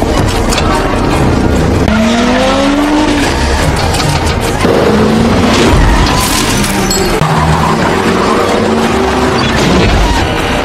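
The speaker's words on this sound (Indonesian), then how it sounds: "Sontak Dadang pun panik saat menyadari mobil ini mengalami remblong." A car with failed brakes skidding at high speed, loud continuous engine roar and road noise with repeated rising tire squeals and screeches, close and intense throughout.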